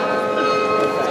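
Munich's Rathaus Glockenspiel, a 43-bell carillon, rings out in a brief sustained wash of bell tones with a faint voice underneath.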